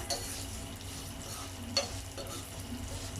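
Vermicelli roasts in ghee for semiya payasam with a low, even sizzle. A couple of light utensil clicks and scrapes sound as it is stirred, and no voice is heard.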